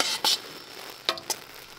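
Boiling maple syrup being stirred in a pan, a few short bursts of bubbling and scraping spread apart over a low steady boil, close and fairly quiet.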